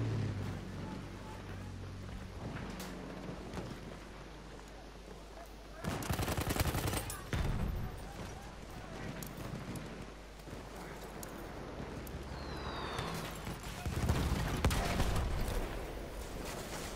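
Bursts of gunfire in a video game shootout, rapid loud volleys separated by quieter stretches of ambient noise, with brief talk in between.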